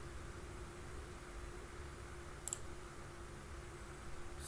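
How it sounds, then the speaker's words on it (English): A computer mouse gives a quick double click, then another faint click near the end, small and close against a steady hiss of room noise. "to run it you just have to right click and just click run session"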